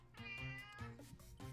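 A cat meows up close in a quiet indoor setting, a drawn-out bright meow breaking into a couple of quick chirping follow-up calls, with no talk.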